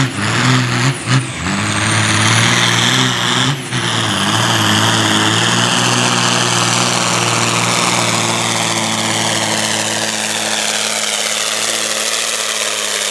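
A Fiat 160-90 tractor at a tractor pull, its engine howling loud and close in a sustained, strained drone, briefly dipping twice early on before holding a steady high roar.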